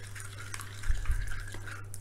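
Water, about 100 milliliters, poured into a thick marinade sauce for pork spare ribs (dwaeji galbi), giving a soft, close liquid splash and trickle for a couple of seconds with no talk.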